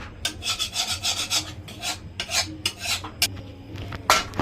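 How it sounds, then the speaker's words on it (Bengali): A utensil scrapes leftover spice paste off the inside of a kadai in quick, repeated rasping strokes, close and fairly loud, with a brief knock near the end. "কড়াইতে যেইটুকু মশলা লেগে রয়েছে ওইটুকু মশলা এখন কাকিয়ে প্রীতম তুলে নিচ্ছে"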